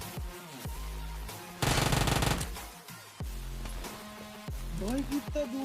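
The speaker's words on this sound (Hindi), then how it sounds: "भाई कितना दूर से शॉट लगा" Gunfire in a battle royale video game, with a loud burst of rapid shots in the middle over constant game audio and tonal music or effects, while someone talks excitedly throughout.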